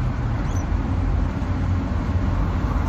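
A Volvo 245 engine roars in a dense, low rumble inside the moving car as it revs up to about 4,000 rpm, loud and steady throughout.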